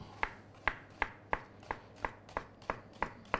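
A knife chopping half a shallot on a cutting board, with about ten crisp, evenly paced taps, close and fairly quiet.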